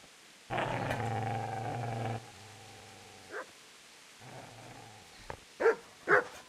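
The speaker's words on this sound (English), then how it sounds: "Get away, you mutt!" A dog in Kingdom Come: Deliverance growls at a man, a low sustained snarl followed by shorter growls and a few sharp yips and whimpers, close and fairly clear.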